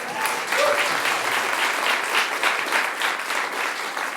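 A live podcast audience applauds during a film quiz, a dense burst of clapping that swells and carries on for several seconds.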